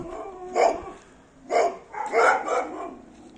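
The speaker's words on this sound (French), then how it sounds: "il y a ces chiens qui sont toujours en cage à l'extérieur" Dogs kept in outdoor cages bark in three separate bursts, a single bark, then another, then a quick double bark, heard at moderate distance over quiet background.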